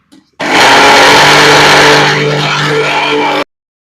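Kitchen mixer grinder whirs loudly and steadily for about three seconds, pulverizing a handful of raw cumin seeds with roasted dals for a protein-rich spice powder, starting abruptly and easing slightly in pitch before stopping.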